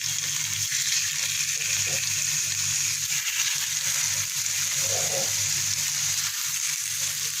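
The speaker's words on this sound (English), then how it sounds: "now I'm just gonna seal off the fillets" Kudu fillets sear in a hot cast iron pan, giving off a constant dense sizzle with light spattering, close and steady throughout.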